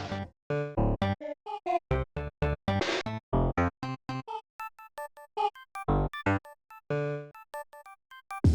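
A single isolated SNES sound channel from Earthworm Jim's music, jumping between wildly different instruments and effects in rapid staccato hits, bright high blips mixed with low thuds, all alone with no voice.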